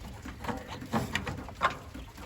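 Soft pigeon coos repeat a few times from farm birds in the morning, faint against a constant background hum.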